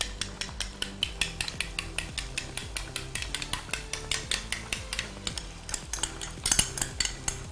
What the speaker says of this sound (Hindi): अच्छे से ज़रा से इसको फेंट लीजिए